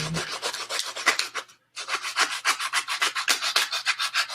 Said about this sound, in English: Now pretty much all the spots that I've hit with the sandpaper